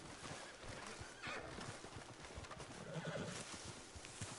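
Horse whinnies and clip-clopping hooves in the video game Red Dead Online, a steady stretch of hoofbeats with neighing woven through, fairly quiet and without talk.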